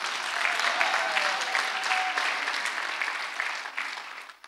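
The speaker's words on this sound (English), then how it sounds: "Please give a round of applause to them." Applause for the women who clean a church breaks out at a Mother's Day celebration, a steady dense round of clapping from a large congregation that holds strongly, then thins and fades near the end.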